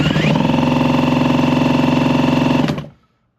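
A Yamaha TZR250 motorcycle engine is spun over and run, giving a close, loud, steady buzzing drone that holds evenly for under three seconds and then cuts off abruptly into silence.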